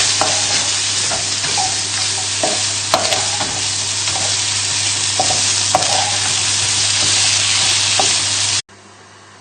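Mushrooms sizzle loudly in hot oil in a frying pan while being stirred, a dense continuous hiss with scraping stir strokes, for creamy tagliatelle with bacon; the sizzle cuts off abruptly near the end.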